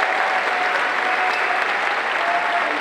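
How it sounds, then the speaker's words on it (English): An audience at a Planet Comicon cosplay competition claps loudly and steadily, a dense sustained applause from a crowd with no break. "let's give a big round of applause for everyone in the novice class."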